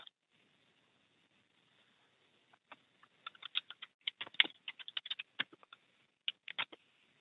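Someone types a comment on a computer keyboard in a quiet room, a short burst of quick, light key taps after a brief pause, close and fairly soft.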